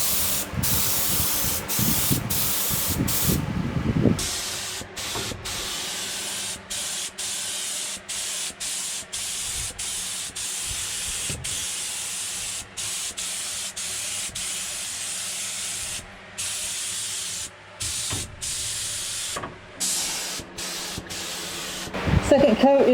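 A paint spray gun lays a second coat of epoxy primer onto a Mitsubishi Evo 9 trunk lid, hissing in repeated bursts broken by short pauses, close and loud.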